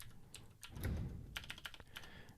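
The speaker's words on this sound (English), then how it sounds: "So if you just type something like svn-h or something like that" Typing an svn command on a computer keyboard, a quick run of close, crisp key clicks with a heavier thump near the start and no voices.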